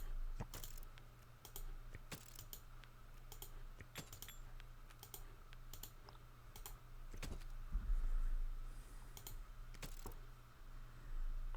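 Steady run of sharp computer clicks while playing cards in an online card game, each click distinct and close against a constant low electronic hum, spread irregularly over the stretch.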